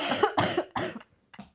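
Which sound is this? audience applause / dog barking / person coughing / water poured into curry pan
person coughing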